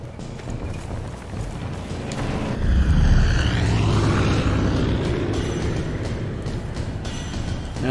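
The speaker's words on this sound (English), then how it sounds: "Now we spawn a goddamn airplane," An airplane spawned in Far Cry 5 roars through as an engine drone swells, peaks and sweeps past, then fades back into busy game sounds with no talk.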